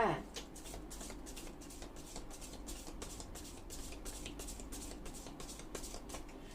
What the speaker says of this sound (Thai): ขออนุญาตสับไพ่เพื่อเปิดดวงชาวกรกฎนะคะ